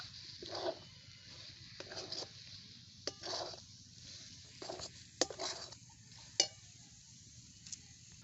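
A spoon stirs semolina batter with grated coconut and a pinch of salt in a bowl, giving soft, repeated scraping strokes in short bursts with a few sharper clicks against the bowl, all faint and close.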